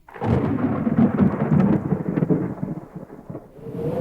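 Deep rolling thunder rumbles through a stormy night with rain, a heavy continuous low roar that swells and fades over several seconds.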